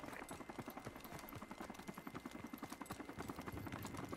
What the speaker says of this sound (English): Friendly chopper on the way.